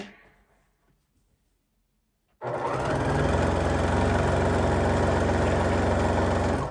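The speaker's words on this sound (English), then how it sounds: "I am what they're calling chain sewing right now" A sewing machine chain-sews heart-shaped quilt pieces, switching on after a quiet start and running loud and steady without pause for the rest of the stretch.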